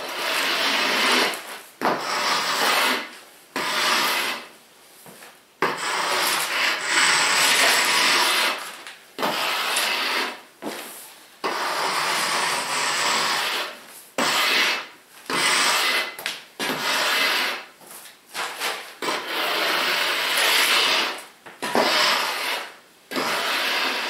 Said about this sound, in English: We're just going to move the gauge rake, get all of our placement of our material.